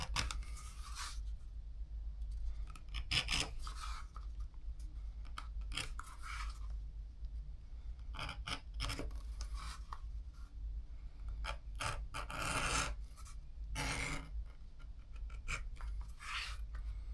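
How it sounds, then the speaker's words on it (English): An edge beveler working the edge of a leather knife sheath makes short, close scraping strokes, each a dry rasping shave, coming in irregular bursts with quiet gaps between. "I want to get this edge beveled"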